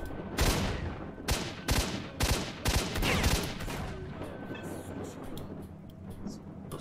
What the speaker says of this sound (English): Those shotguns are so annoying.